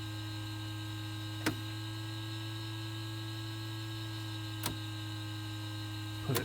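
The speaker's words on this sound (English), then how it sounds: "We'll put the fuel pump on." Electric fuel pump whirring in a Black Square Commander 114 in Microsoft Flight Simulator, a steady, even hum that runs throughout, broken by three faint, sharp clicks.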